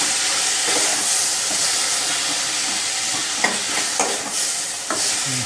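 Tomatoes fry in a pan for dry bombil masala, a constant loud sizzle broken by several scraping stirring strokes close by.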